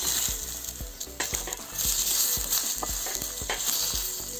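Pepper, garlic and a tomato frying in a pan for a ridge gourd and field bean bassaru, with steady close sizzling and crackling plus repeated clinks of a spoon stirring against the pan.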